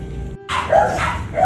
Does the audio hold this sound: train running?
no